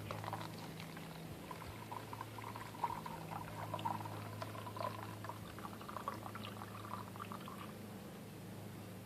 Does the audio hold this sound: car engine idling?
no